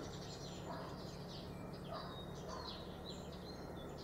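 Tits and other songbirds give faint, scattered high chirps and short calls at a distance over a steady outdoor hiss on an early morning.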